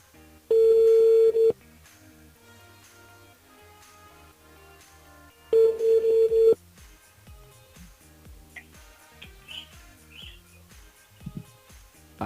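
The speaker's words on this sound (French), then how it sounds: "Elle appelle Émilie sur le standard de la radio du côté de Saint-Paul" A call placed from a radio station switchboard near Saint-Paul: two long, steady ringing tones about four seconds apart, loud and close, followed by faint handling noises and soft rustling.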